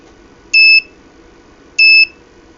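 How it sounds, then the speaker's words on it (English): Two loud electronic beeps from a buzzer wired to an ESP32 board, each a steady high tone lasting about a quarter second, separated by over a second, over a faint background hum. "Buzzer."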